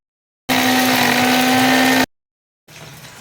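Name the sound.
mixer grinder grinding yellow mustard seeds, ginger and green chillies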